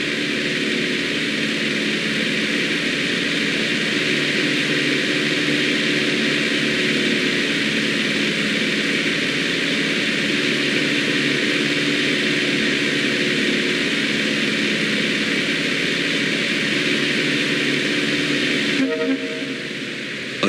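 A steady, droning propeller airplane engine holding constant in flight in Microsoft Flight Simulator, loud and unbroken with a tonal hum, briefly shifting near the end.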